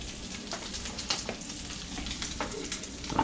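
A bagel frying in bacon grease in a pan, a close, steady crackling sizzle with small pops scattered throughout, no talk.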